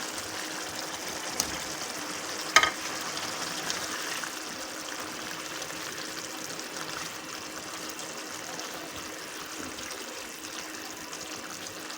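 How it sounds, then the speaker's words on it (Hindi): Pieces of taro fry in a masala for arbi gosht, giving a continuous sizzling hiss that stays even throughout. A single sharp clink of a utensil sounds early on, and no one speaks. "अरबियों को भी डाल के अच्छी तरह से भूनेंगे"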